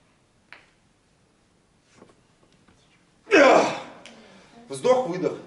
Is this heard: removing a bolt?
no